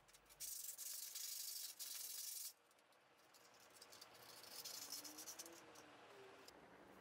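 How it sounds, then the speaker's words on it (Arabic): Sanding MDF wood by hand: a steady, rough scratching rub, loud at first in two close bursts, then a softer, longer stretch of rubbing. "وبعد كده هنبدأ نصنفر الأجزاء دي كلها حتى الدوائر من جوه."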